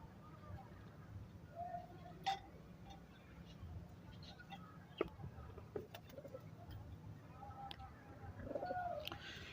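Soft coos of pigeons kept in a loft repeat faintly over a low, steady background murmur, with a few brief clicks and rustles scattered throughout.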